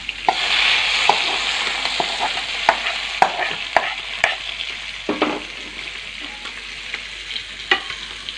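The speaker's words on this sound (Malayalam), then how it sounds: "നമുക്ക് കടുകെല്ലാം അതിനകത്തേക്ക് ഇട്ട് ഇളക്കി കൊടുക്കാം" Mustard seeds popping and sizzling in hot oil while being stirred into an Onam sadya koottukari. Sharp, scattered crackles and pops sound up close over a low hiss, with occasional stirring scrapes.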